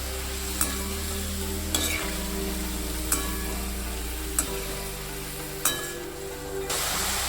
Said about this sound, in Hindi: अब हम इसी तेल में चिकन ऐड करेंगे।